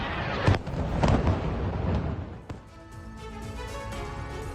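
Blasts from an Israeli air strike on Burj al-Shamali in Lebanon, several dull booms with sharp onsets in the first half, then a fainter rumbling aftermath, heard from a distance.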